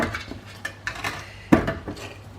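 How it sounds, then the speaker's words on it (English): Potato wedges clatter onto a metal baking tray in a home kitchen, a string of close, sharp metallic knocks and scrapes with one louder clank partway through. "now all I need to do is put those on a baking tray"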